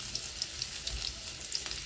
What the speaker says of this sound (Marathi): जिरे टाकते